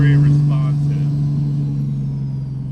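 Third-gen Cummins diesel truck with large compound turbos, engine revving loud and close with a strong steady drone that slowly fades.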